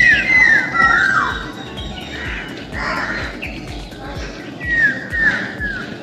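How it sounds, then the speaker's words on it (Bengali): An Asian koel calls on a spring morning, repeated loud, swooping whistled cries rising and falling in short bursts, mixed with other bird squawks and chirps over faint background rumble. "ওই দেখো কোকিল ডাকছে, বসন্ত তাহলে কোকিল ডাকে।"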